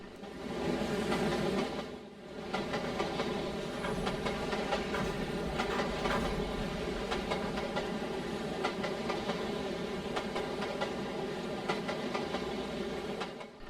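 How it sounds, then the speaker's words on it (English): A freight train led by an SD70AC locomotive rolls through the city of Partridge in the Trainz railway simulator, a steady loud rumble and rail clatter running continuously, with a brief dip early on. "1982 leads the train into the city of Partridge with an SD70 AC revamp second out"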